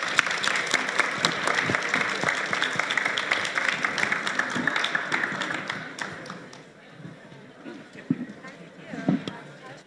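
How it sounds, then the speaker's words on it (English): An audience at a livestreamed panel event gives the panelists a heartfelt round of applause: a dense, sustained burst of clapping that fades gradually over several seconds, with scattered claps and murmurs continuing. "Once again, a heartfelt round of applause for our panelists."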